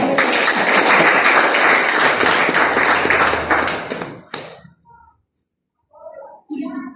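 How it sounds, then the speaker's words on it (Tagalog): A church congregation claps loudly and densely for about four seconds during a Sunday sermon, then the applause thins into scattered claps and fades, followed by brief sounds near the end. "Malakas na palakpak naman po dyan."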